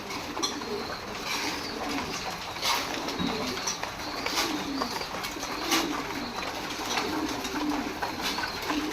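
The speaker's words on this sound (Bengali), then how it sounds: "কিং কবুতর।" A group of king pigeons coo softly and repeatedly while eating feed, with faint pecking patter around the low, rolling calls.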